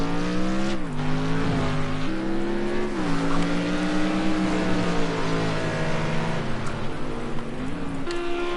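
A British GT race car at Snetterton drifting into the hairpin, a loud close engine note that shifts pitch in steps as gears change, holding steady under a constant roaring wash with no talk.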